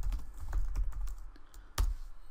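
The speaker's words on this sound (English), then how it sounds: "If I was to go here and type" Computer keyboard typing in a short flurry of close, muffled key presses with soft thumps, irregular rhythm and one sharper strike toward the end, with no voices.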